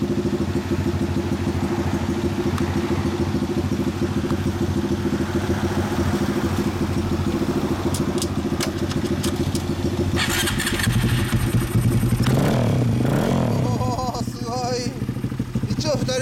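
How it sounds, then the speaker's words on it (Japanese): A Honda Grom MSX125 motorcycle with an Over Racing exhaust idling with a deep, throaty burble, close and steady, then a few revs near the end as voices talk over it. "エンジン音聞かせてもらえますか"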